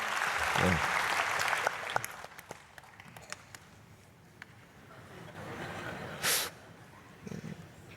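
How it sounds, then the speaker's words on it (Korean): Applause from a church congregation at a dawn prayer service fills the first couple of seconds, then fades into a quieter room with scattered claps and murmurs. "박수하겠습니다"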